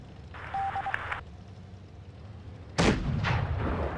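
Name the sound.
tank cannon shot in a video game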